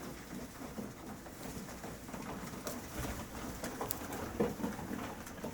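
Pigeons cooing in a pigeon loft, soft low murmuring coos that blend into a faint, steady background with light shuffling and a few brief sharper clicks.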